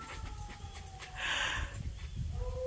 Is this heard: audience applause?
no